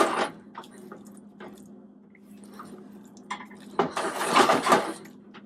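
Cracked egg yolks are stirred into eggs in a pan with the heat off, giving soft scraping and light clinks of utensil on pan, ending in a louder stretch of brisk mixing.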